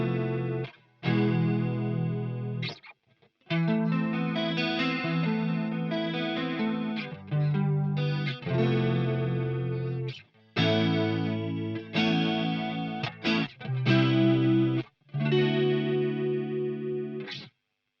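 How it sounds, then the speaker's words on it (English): A clean electric guitar runs through a DOD FX65 chorus pedal, playing sustained chords and short phrases with a lush, shimmering, wavering chorus tone, loud and close, with brief gaps between passages and no talking. "It's nice, it's a nice lush chorus."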